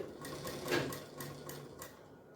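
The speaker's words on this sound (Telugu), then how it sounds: "కొద్దిగా ఆపుతూ ఆపుతూ కుట్టుకోవాలి ఇలా" At a tailoring class, a sewing machine stitches fabric in short, quick rhythmic bursts, a soft mechanical clatter heard fairly faintly and close by without any talking.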